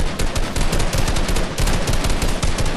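Gunfire in Fortnite: dense, continuous rapid automatic shooting, loud and close, with steady rattling bursts throughout and no talk.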